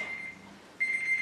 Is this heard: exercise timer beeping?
yes